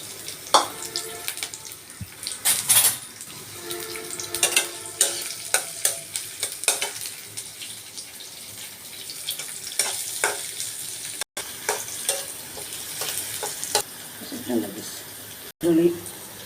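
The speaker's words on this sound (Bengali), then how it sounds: "এখন আমি গুঁড়া মাছগুলো রান্না করব। তো পেস্ট দিয়ে দিব, কাঁচামরিচ," Small fish fry in a pan with spice paste and green chillies, a steady sizzle broken by frequent scraping stirs and a few clatters, with faint talk in the background.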